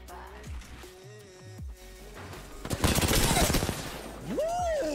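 SMG gunfire in Apex Legends comes as a dense rapid burst in the middle, with other game effects and sweeping tones around it and voices at the start.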